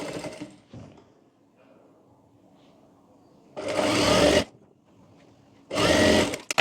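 Sewing machine stitching a folded edge of the main blouse fabric, two loud steady whirring runs of about a second each, close by, with someone talking faintly before and between them.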